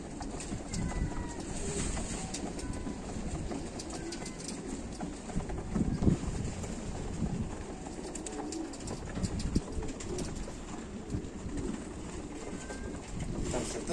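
Pigeons murmur and coo inside a pigeon loft, a dense, continuous flock sound that stays fairly loud and steady throughout, with a few sharper flutters and knocks.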